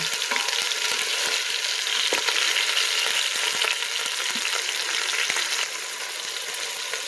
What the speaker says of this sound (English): I already flipped the meat, and now I'm just waiting for the other side to become the sauteed deep brown.